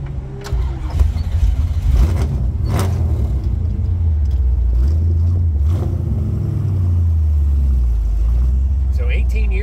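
A 1955 Chevrolet Bel Air convertible with a 383 V8 and four-speed rumbles low and steady from inside the cabin, the engine catching and then idling and revving gently throughout.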